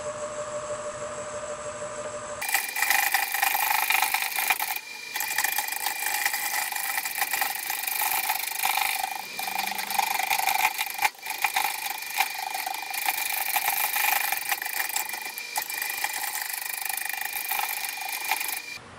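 A wood lathe spins at 375 RPM while a mesquite bowl is turned, a loud, dense, continuous rumble of the spinning machine with a harsh, scraping tool-cut texture that varies slightly over time and no talking.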